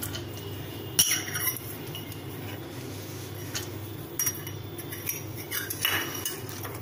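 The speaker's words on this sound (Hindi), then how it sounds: "ये चने की दाल है, ये 20 ग्राम है। इसको हम ये कुकर में डाल देंगे।" Dry chana dal poured into a pressure cooker, a sharp clink at the start followed by light rattling patter of lentils against metal in several short bursts.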